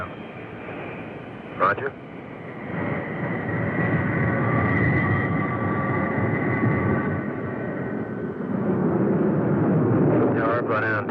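Grumman F-14 Tomcat taxiing across a runway, a loud sustained jet engine whine and roar with a steady tonal hum, under brief radio chatter near the start.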